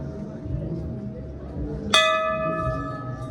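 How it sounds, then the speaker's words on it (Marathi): A temple bell at Gangotri is struck once, its clear ringing tone lingering and slowly fading over a murmur of crowd noise and distant voices. "चला पण आता बेल वाजलेली आहे"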